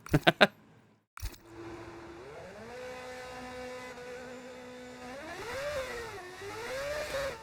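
V8 car engines in a racing video game, with a few sharp bursts at the start, then a sustained whining engine tone that holds steady before rising and falling as it revs, moderately loud.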